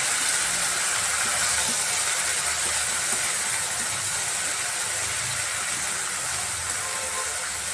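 Potatoes, brinjal and capsicum fry in a pan while being made into gojju, giving a steady close sizzling hiss that holds evenly throughout with no talk.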